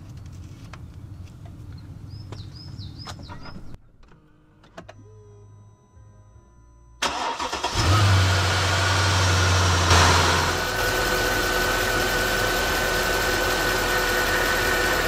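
Mercedes-Benz E500 W211 V8 cranking and firing up after an oil and filter change, preceded by faint dashboard chimes and clicks, then settling into a loud, steady idle close by.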